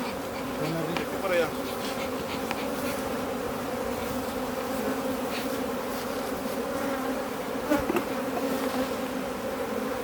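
Honey bees swarm around a crowded beehive, their dense steady hum filling the air close by for the whole stretch, with someone briefly speaking Spanish at one point.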